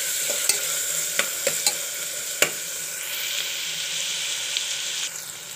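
Carrot and tomato with turmeric stir-fried in a pan for bitter gourd biryani, a steady sizzle broken by several sharp scraping clicks of the spoon, close and fairly loud, with no voices.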